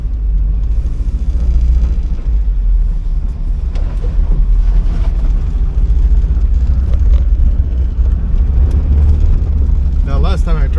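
A 1979 Porsche 924 engine runs with a loud, steady low rumble throughout, swelling in revs now and then, with a voice talking briefly over it near the end.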